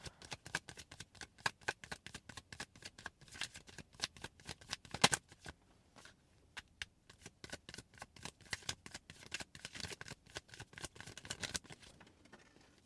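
Tarot cards being shuffled in quick riffling bursts, crisp papery flicks repeating steadily with brief pauses, close and fairly quiet with no talking.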